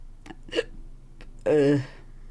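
Hiccups from a person, two short sharp ones followed by a longer voiced hiccup-like gulp, close and fairly loud over a quiet room.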